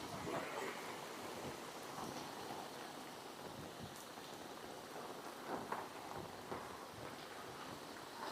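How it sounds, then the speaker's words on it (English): Heavy downpour at an outdoor football match, a steady dense hiss of rain falling on surfaces, faint and continuous, with a few soft thumps and knocks scattered through it. "Heavy downpour."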